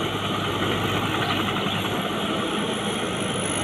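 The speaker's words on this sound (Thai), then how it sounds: "เครื่องยนต์ 6 สูบนะครับ" A six-cylinder diesel engine on a rotary tiller tractor idles close by, giving a steady, throbbing low rumble with a vibrating mechanical buzz and no speech.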